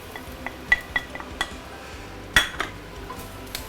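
Light clinks and scrapes of a utensil against a wok as garlic cooks off the fire in residual heat, with scattered close taps, one sharper metallic knock, and a faint background hiss.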